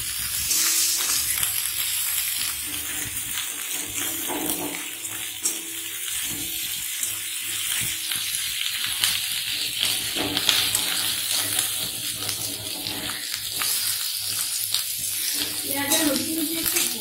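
Onions frying in a pan with ginger-garlic paste for a Bengali chicken rezala, a steady broadband sizzle running continuously at close range with occasional stirring scrapes.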